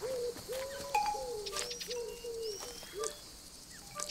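Sardinian warbler in the Alba wildlife video game calls among other birdsong, with repeated short calls and higher chirps over a steady outdoor ambience.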